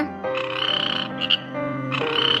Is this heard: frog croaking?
yes